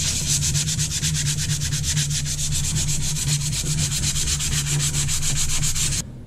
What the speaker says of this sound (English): So I'm just going to keep going about here, sanding, carefully working out those low spots.